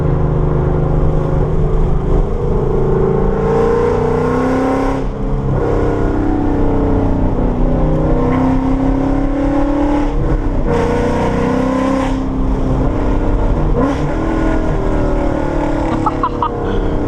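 A loud Ford Mustang engine roars continuously with a deep rumbling exhaust, rising and falling as it revs through gears, close and dominant throughout.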